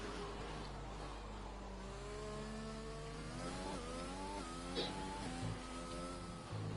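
Race car engine on an outlap in a racing video game, a steady mid-pitched drone that climbs through rising revs with a couple of gear-change dips, continuous and fairly close.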